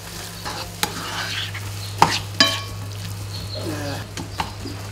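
Garlic and onion sizzling in a pan while a plastic spoon stirs them, giving soft scrapes and a few louder knocks over a steady fry, close and without voices.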